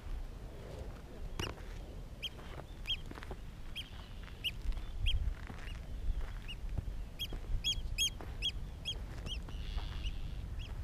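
A small bird in Iceland gives repeated sharp, high chirps in quick bursts, clustered more densely toward the end, over a soft outdoor rumble of wind and ground noise.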